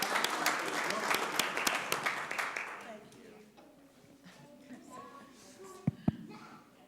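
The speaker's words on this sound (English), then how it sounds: "Let's give them another round of applause because you guys were super." Audience at a city council meeting breaks into applause for a group of guests, dense clapping for about three seconds that quickly thins out into shuffling, murmured voices and a couple of sharp late claps.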